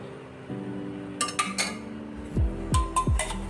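A kadai pan with ghee is set down on a gas stove, giving a few close metallic clanks and knocks of cookware in a quiet kitchen, with no talking.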